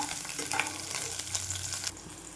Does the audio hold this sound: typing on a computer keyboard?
no